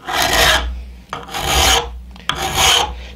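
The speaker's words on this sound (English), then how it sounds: "I'm using a file just because that's what probably most of you guys have or can get" A hand file rasps rhythmically across the blade of a Mora Bushcraft Forest knife, three long close strokes with short pauses between them, loud and alone.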